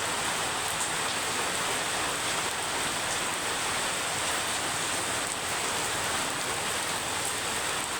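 Steady rain falls in Anuradhapura, a dense, even hiss of drops that holds unchanged throughout, with no voices.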